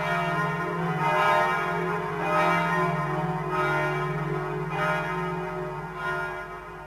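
Church bells ring out with a sustained, humming resonance, each stroke arriving roughly once a second over a continuous metallic drone, loud and close with no voices.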